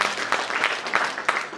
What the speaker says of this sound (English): Give yourself a good applause.